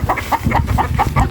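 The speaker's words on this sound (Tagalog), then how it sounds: "pinapaalagang manok sa'yo ano?" Chickens cluck in short, repeated bursts about every quarter second, close by, with no talking over them.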